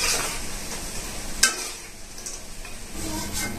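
Nimki, a savory Bengali snack, frying in hot oil gives a steady, fairly faint sizzle with light stirring and one sharp utensil clink partway through; no one speaks.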